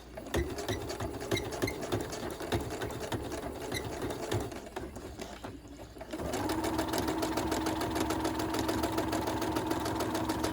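A sewing machine stitches elastic into a fabric face mask, running steadily and close with a rapid mechanical chatter that pauses briefly midway, then resumes louder and more even.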